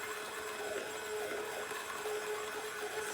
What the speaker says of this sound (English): we're just going to pulse. It's going to make a little bit of noise